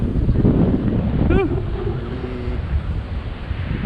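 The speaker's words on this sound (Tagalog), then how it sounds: "lakas laki ng alon bro" Heavy ocean surf on a black-sand beach and wind roar continuously, loud and close, with big waves, a brief whistling tone and a low hum partway through.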